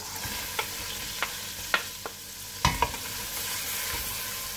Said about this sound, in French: Je verse les oignons.